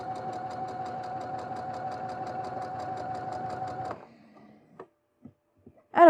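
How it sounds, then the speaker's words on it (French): A Brother Innovis 1500D sewing machine stitches with a double needle at a reduced speed, giving an even, rapid mechanical chatter for about four seconds. It then stops, a few faint handling clicks follow, and a voice starts at the end. "C'est une Innovis 1500D, machine à coudre et broder"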